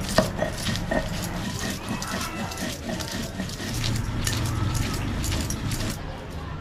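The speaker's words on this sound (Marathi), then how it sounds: "हे सगळं वाटून घेते, जाडसरच वाटायचं, जास्त बारीकही नाही।" Green chillies and cumin are ground coarsely for kothimbir vadi, giving a continuous gritty grinding and knocking that shifts in pitch and swells louder toward the end, close and steady.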